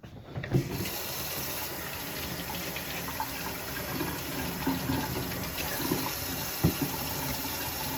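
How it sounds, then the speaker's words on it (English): Tap water runs steadily into a sink while potatoes are washed for a crockpot beef stew, a continuous close gush with a few soft knocks and splashes, no talk. "Yeah, always wash your potatoes."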